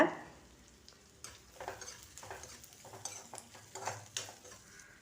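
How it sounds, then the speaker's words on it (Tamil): Chillies and grated coconut get stirred in a hot pan, with soft sizzling and a run of scraping spoon strokes and light clinks against the metal, close up and moderately quiet. "இது கூடவே கொஞ்சமாக தேங்காய் சேர்த்து நல்லா கலந்து விட்டுக்கோங்க"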